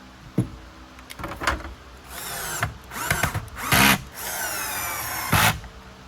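A cordless power drill whirs in short bursts and longer runs while backing out studs on a Riccar Vibrance vacuum cleaner, with clicks and handling noises between bursts, close and clear.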